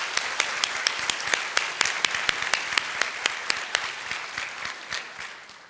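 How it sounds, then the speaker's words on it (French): A graduation ceremony audience applauds new master's graduates in human resources with sustained, fairly loud clapping. A few sharp individual claps stand out over the steady wash, and the applause slowly thins toward the end. "je pense qu'on peut à nouveau vous applaudir pour vous féliciter"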